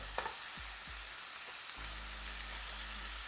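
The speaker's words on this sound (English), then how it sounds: "We're going to pan sear that for about 3 minutes per side." Chicken sears in a hot pan with a constant, close sizzle and crackle, interrupted by a few soft scrapes or stirs, with no talking.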